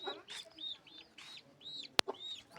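A chicken and a small chick make repeated short clucks and high, rising peeps at close range, quiet overall, with one sharp click about two-thirds of the way through.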